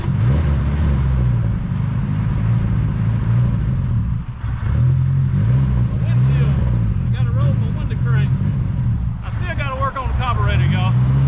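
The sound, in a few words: 1987 Ford F150 truck engine running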